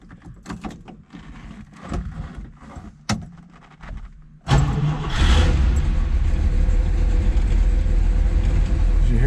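A 1969 Plymouth Road Runner with a HEMI engine and four-speed cranks with a few dull clunks, then catches at once and settles into a loud, steady, rumbling idle close by.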